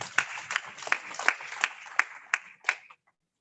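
Applause in a Zoom meeting: about nine separated bursts of clapping in a steady rhythm, moderately loud and thin over the call audio, stopping abruptly after three seconds and leaving silence.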